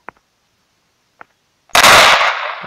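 Two faint clicks, then a single loud, sharp Dragunov sniper rifle shot from a Minecraft gun mod, using the Modern Warfare 2 sound, bursts out and rings off with a long fading tail.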